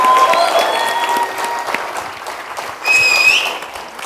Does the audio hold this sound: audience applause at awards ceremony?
yes